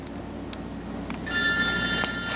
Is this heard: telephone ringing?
yes